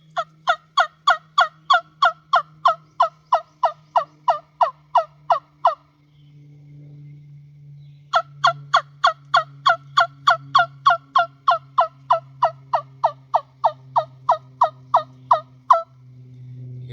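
Turkey call played by mouth with a cupped hand shaping and deepening the tone, giving a fast, loud run of sharp gobble-like yelps, a pause, then a second run of yelps, over a low steady hum.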